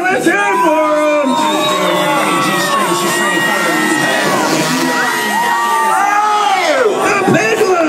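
A crowd at a freestyle motocross show cheers, whoops and yells loudly for a rider, sustained excited shouting with an announcer's voice mixed in.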